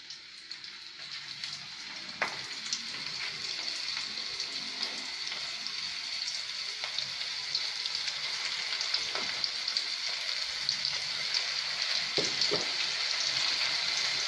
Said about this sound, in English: Oil is ready. You can take onion rings, put in oil.